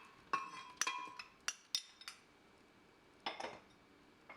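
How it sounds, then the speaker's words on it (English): Ice cubes and fruit pieces (mango, strawberries) clink and clatter as they drop into a blender for a milkshake, a handful of sharp bright knocks in short bursts with quiet gaps between. "In the blender, you will add ice cubes,"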